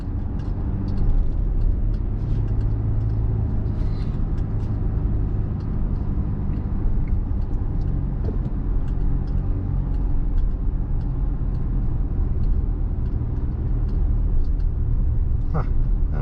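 Steady road rumble and engine drone from inside a car driving between Port Gamble and Port Townsend, Washington, loud and continuous with faint ticks and rattles on top.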